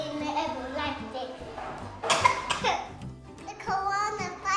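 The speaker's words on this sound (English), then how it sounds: "Cover your cough. No, cough in the air like this." A child coughs once sharply in the middle of the clip, with children's voices talking before and after it.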